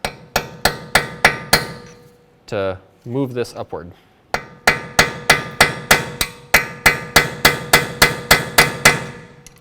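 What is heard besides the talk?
hammer tapping a metal punch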